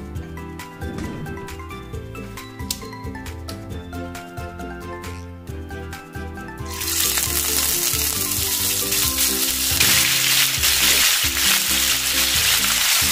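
Beef frying in a pan for beef mechado, a steady sizzle that jumps louder and brighter about halfway through as more goes into the hot oil, heard close with faint kitchen clinks and no talking.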